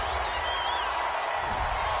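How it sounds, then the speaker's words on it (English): Home crowd noise in a PS4 football video game, a steady roar with a few whoops rising over it after a pass interference call, loud and continuous throughout without pause. "This home crowd, they're happy with that call."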